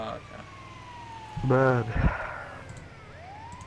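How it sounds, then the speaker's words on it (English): Ambulance siren in GTA 5 roleplay, a short rising and wailing electronic tone that swells briefly and then fades, with a person speaking over it. "The only thing I hate is the siren."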